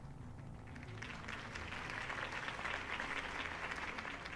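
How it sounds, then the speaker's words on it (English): Crowd applause at a Harvey Dent campaign rally in a video game: faint, distant clapping that swells slightly and holds steady, with no clear speech over it. "If only Mr. Wayne, my campaign's largest backer, could have heard that applause"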